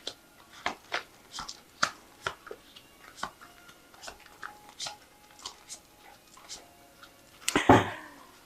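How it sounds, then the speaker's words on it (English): Tarot cards riffled and snapped in a long series of crisp slaps, ending in a louder burst of rapid shuffling, close up with no talking. "So I have shuffled this deck."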